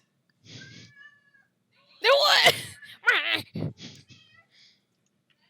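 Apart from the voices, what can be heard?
Khajiit cat meows from a video game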